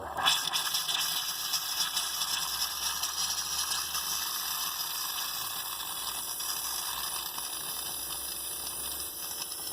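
Steady rushing hiss of hot water flowing through camper plumbing, continuous and fairly close, with a brief louder burst at the start.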